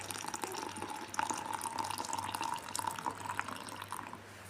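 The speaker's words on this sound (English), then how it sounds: "then you add in a hot water." Hot water pours steadily into a cup of sliced onion, a continuous watery trickle and splash lasting several seconds at moderate loudness, with no voices.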